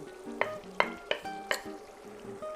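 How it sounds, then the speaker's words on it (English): Eggplant and zucchini stirred into a pan of caramelized tomatoes, giving a few sharp clacks of a utensil against the pan at an uneven pace over a soft, steady sizzle. "we're going to add our eggplant and zucchini"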